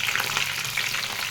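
Green chillies frying in oil in a pan for village-style dosakaya (yellow cucumber) chutney, a steady close sizzle with light crackling throughout, no voices.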